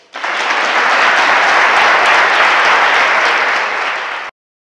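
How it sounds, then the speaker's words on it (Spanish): Applause from an audience at an audiovisual short-film creation awards event, a dense, steady wash of clapping lasting about four seconds before cutting off abruptly into silence. "Ahora se aplaude"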